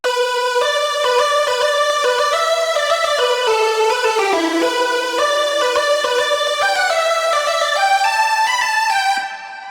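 Bright electronic synth lead plays a sustained, rich melody in a higher register, notes flowing in a steady phrase with a brief pitch dip midway, loud and alone, ending with a slight fade.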